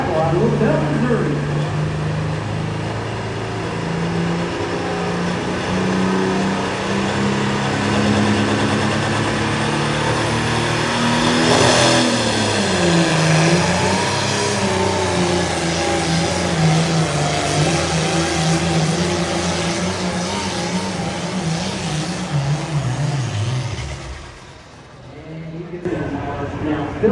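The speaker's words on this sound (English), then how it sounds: "Right now we've got Mr. Greg Neeson on a tractor he calls Half Smoke No Travel out of Louisville, Missouri." A pulling tractor's engine roars continuously at a county tractor pull, a loud sustained drone that rises and wavers in pitch before cutting off near the end, with an announcer talking over it.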